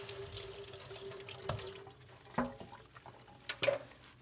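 Water from a tap runs over a grinding wheel as it is rinsed, a soft close trickle broken by a few splashes and drips near the end.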